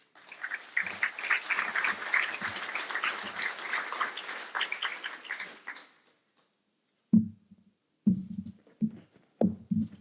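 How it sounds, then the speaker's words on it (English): Conference audience applauding speakers after a talk introduction, a dense burst of clapping for about six seconds that fades out, followed by silence and a few muffled thumps. "Let's give them a nice round of applause."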